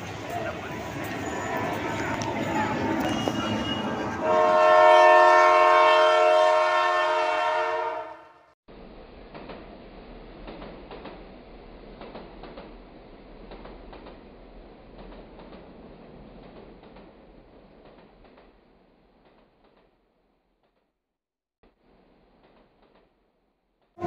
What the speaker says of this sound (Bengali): এখন আমাদের ট্রেন চলে এসছে 2 নম্বর প্ল্যাটফর্মে।